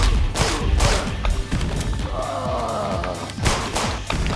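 Video game gunfire as a player shoots enemies while standing still, a run of punchy thudding shots and bursts spread across the clip, loud and close, with no talk.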